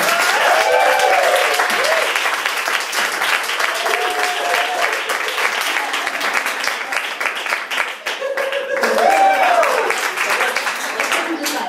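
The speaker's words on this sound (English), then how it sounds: "Make some noise for Casey Larwood." Comedy club audience applauding and cheering loudly and steadily throughout, with whoops and voices rising above the dense clapping, swelling again near the end.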